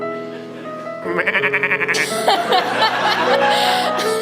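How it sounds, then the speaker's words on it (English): A dog's goat-like bleating cries in a song, several quick wavering bleats that rise over the music and are followed by more bleating and yelps. "Perfect little goat dog hybrid."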